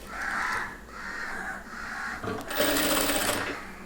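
Sewing machine stitching a fold in a chudidhar pant, whirring in short bursts with brief pauses between, then a louder, brighter run near the end, close by.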